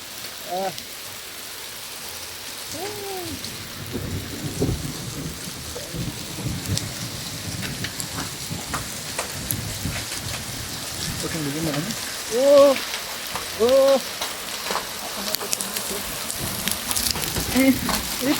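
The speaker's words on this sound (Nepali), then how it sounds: "यत्रो असिना पर्दो रहेछ यहाँ त" Heavy hail and rain pound steadily throughout a sudden storm on the summit of Phulchowki Hill, Kathmandu Valley, with low rumbles like thunder and a few brief, muffled voices in between.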